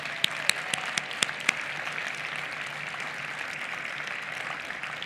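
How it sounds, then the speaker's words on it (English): Even, sustained applause from a crowd at a global innovation awards celebration, a few sharp individual claps popping out at the start before settling into a uniform, moderately distant roar of clapping. "let's give one final round of applause to all of the finalists and winners tonight."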